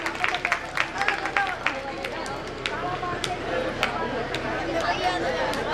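Scattered audience clapping at a Hindu devotional night jagran event: uneven, sharp hand claps ring out across a crowd, loudest at first and then thinning into a steady background murmur while someone talks over it.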